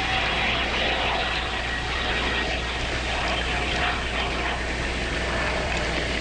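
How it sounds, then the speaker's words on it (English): Continuous droning roar of an airplane engine, steady and fairly loud, filling the whole stretch without a break. "It's a weird sound, sort of like an airplane."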